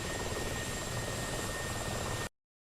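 Mi-24 helicopter in a video game, a steady dense rotor and engine roar heard alone for a couple of seconds before cutting off abruptly to silence.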